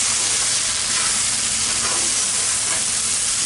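Potato and dill greens bhaji cooks in a pan with a steady, loud hiss and sizzle that runs continuously without pause.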